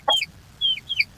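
A chicken clucks in short bursts, three sharp, close calls spaced across about a second over quiet background.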